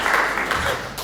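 A short burst of audience clapping after a talk on farm resilience in field crops, dense and fairly loud across the whole moment.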